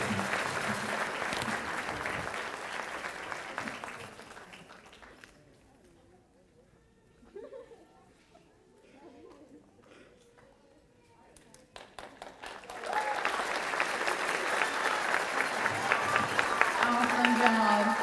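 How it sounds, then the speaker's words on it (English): Round of applause for students at a middle school 8th grade promotion ceremony: clapping fades out, a quiet stretch with faint sounds follows, then a loud crowd of clapping swells back in. "So I'd like to give these students a round of applause."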